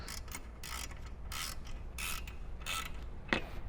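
Ratchet wrench tightening a 17 mm nut on a heavy-duty front light mount for a Jeep Wrangler, a series of close, rhythmic ratcheting clicks in short strokes over steady background hum.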